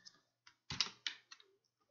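Computer keyboard being typed on: a handful of sharp, irregular key clicks, close and quiet, with brief gaps between presses.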